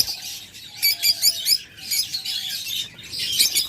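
Caged pet birds, likely pigeons, sitting in pairs at night chirp in quick bursts of bright tweets that come and go, close and fairly loud, with no talking.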